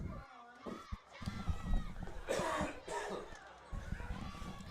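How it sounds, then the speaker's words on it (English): Several rough coughs and throat-clearing bursts at a high school football game livestream mic, mixed with background crowd noise and some talking, fairly close and moderately loud. "Pardon me for my coughing break there, if you heard it on the mic."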